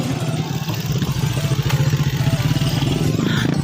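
A motorcycle engine drones steadily and close by on a road trip to Manaoag, Carmen, with a low, continuous rumble and some clatter and no voices over it.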